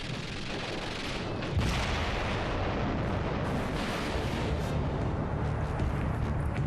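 An explosive charge detonates on a turret of Fort Eben-Emael in Belgium during WWII, a dense, rumbling roar with a sharper surge early on that stays loud and continuous to the end.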